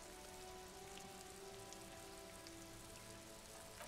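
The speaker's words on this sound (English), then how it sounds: "Rain falls down on the world." Rain falls over the city in the video game Disco Elysium, a steady, dense hiss of drops on surfaces with a faint low tone beneath, unbroken from start to finish.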